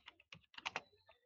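Someone types on a computer keyboard to enter a search. A quick, quiet run of separate key clicks plays close by, in uneven bursts with no talking.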